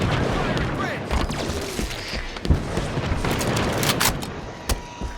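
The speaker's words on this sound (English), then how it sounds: "Sniper fire!" Halo 5 sniper rifle fire in a chaotic multiplayer match: sharp cracks and booms stand out over a dense wash of gunfire and explosions, with voices talking throughout.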